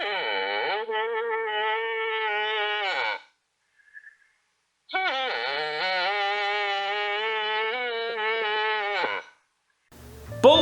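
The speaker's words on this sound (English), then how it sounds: "Cows will use nasal-toned bawling sounds to entice a mate." Female moose bawling during the rut, long nasal, drawn-out calls, two sustained cries separated by a short pause, fairly loud and alone apart from a brief noise at the end.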